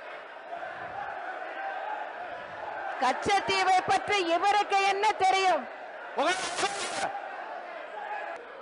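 Opposition members shouting together in the Tamil Nadu legislative assembly, a loud burst of overlapping yelling voices in rhythmic bursts, pausing, then rising again, with a speaker talking beneath and between the outcry.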